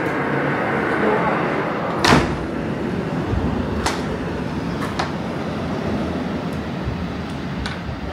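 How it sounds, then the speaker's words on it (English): A sliding door opening in a Maldives resort villa, one short loud rumble near the two-second mark followed by a few fainter clicks, over steady outdoor ambience. "We could actually open the door."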